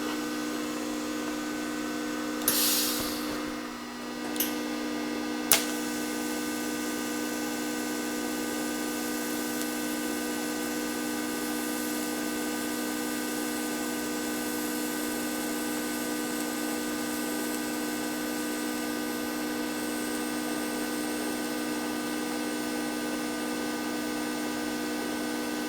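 A budget TIG welder running on a test weld gives off a steady electrical hum from start to finish, with a brief hiss and a couple of sharp clicks near the beginning.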